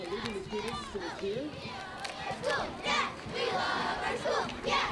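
Elementary school students at a Lunar New Year parade cheer in a loud group chant led by their music teacher, with excited shouts and children's voices rising and falling in bursts.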